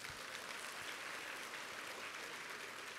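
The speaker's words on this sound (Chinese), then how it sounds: "来，给自己掌声鼓励" An audience applauds steadily at a sales training seminar, a dense, even wash of clapping lasting throughout with no talk over it.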